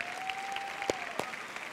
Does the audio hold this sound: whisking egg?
no